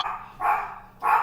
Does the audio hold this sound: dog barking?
yes